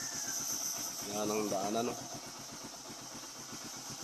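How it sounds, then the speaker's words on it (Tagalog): A motorcycle engine idles steadily while warming up before a ride into town, a continuous low rumble running throughout beneath a voice speaking Filipino. "Pinapapainit lang natin yung makina."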